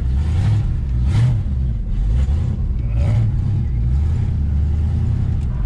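A 1988 Ford Mustang GT foxbody V8 runs close by in a hot shop, its deep, loud engine rumble swelling in repeated rev surges, roughly four or five, with a rough, heavy idle between.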